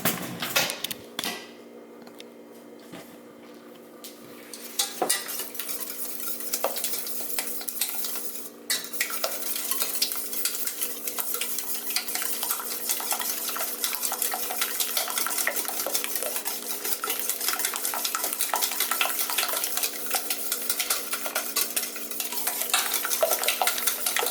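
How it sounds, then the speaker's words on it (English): Eggnog of sugary beaten eggs stirred by hand in a bowl, a steady scraping and clinking of utensil against the container running continuously and fairly close, with no talking. "now we're just going to give this a good old stir"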